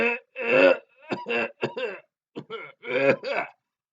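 A man's harsh, repeated coughing and throat-clearing, a run of short guttural bursts in close succession with brief pauses between, close and fairly loud with no other sound.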